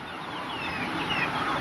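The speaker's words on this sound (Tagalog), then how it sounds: "inahin na native chicken. Meron siyang sisiw na 10." Soft clucking and thin peeping from a native hen and her ten chicks, close by over a steady background hiss.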